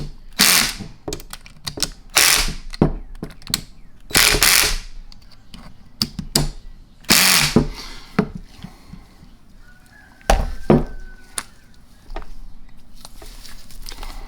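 A hand ratchet tightens bolts in a pattern around a gasket during an Ingersoll-Rand 2235TiMAX impact wrench rebuild, making repeated short bursts of sharp, close clicks with irregular pauses between them.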